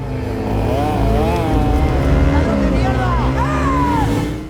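A motorcycle engine roars steadily, its pitch swooping up and down as it revs hard, with voices mixed over the noise.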